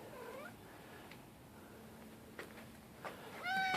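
Indoor cat meowing, faint rising and falling cries scattered through a quiet room, with a clearer sharp meow at the end.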